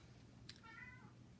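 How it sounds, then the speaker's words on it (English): A house cat meows once, a short clear mid-pitched call heard at moderate distance in a quiet indoor room, preceded by a brief faint click. "walking through the house meowing"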